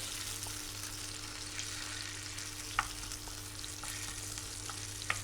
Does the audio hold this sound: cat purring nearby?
no